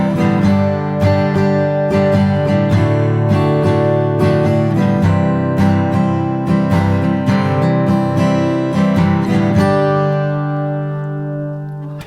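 Country chords strummed on an acoustic guitar in a down, down, up, up, down, up pattern, loud and close with a steady rhythm, ringing out for about ten seconds before letting the last chord decay alone.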